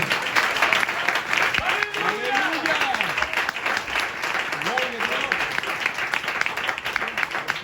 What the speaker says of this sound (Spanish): Denle el aplauso fuerte al Señor.